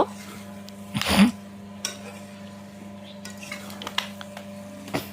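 Mutton curry with potatoes is stirred and fried in a pan, with a loud scraping swipe of the spoon early on, then occasional lighter clinks and scrapes over a low background hum.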